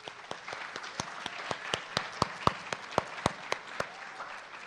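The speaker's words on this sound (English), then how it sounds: "Graduates, I think your loved ones deserve a round of applause" A graduation ceremony audience applauds for the graduates' loved ones, scattered moderate clapping with a few sharp individual claps standing out, fairly close and brief.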